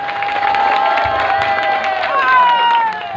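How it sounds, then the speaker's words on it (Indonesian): Crowd applause and cheering at an outdoor Javanese dance performance, a lively wash of clapping mixed with a steady tone and voices. "Tepuk tangannya."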